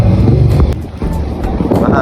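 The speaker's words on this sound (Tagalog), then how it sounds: "Mahangin te." Strong wind buffets an outdoor microphone with a constant low rumble and gusty roar, loud and close, while people talk over it.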